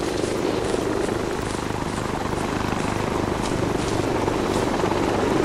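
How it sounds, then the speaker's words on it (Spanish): Helicopter flying in the video game Arma 3, a continuous dense rotor and engine drone with faint rhythmic chopping, steady and fairly close throughout. "¿Es helicóptero?"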